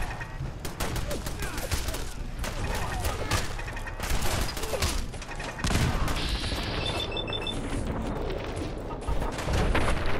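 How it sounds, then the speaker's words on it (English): Rapid automatic gunfire from machine gun turrets in Fallout 4, dense overlapping bursts and impacts rattling on continuously and loudly throughout, with occasional crashes and booms mixed in. "I have machine gun turrets."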